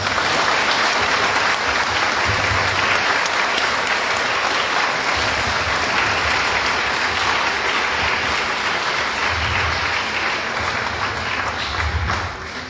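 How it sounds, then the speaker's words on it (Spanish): A large audience applauds a speaker at a public event, with sustained, loud, even clapping that carries on for a long stretch and eases slightly near the end. "Considero, hermanos, que el aplauso se quedó corto."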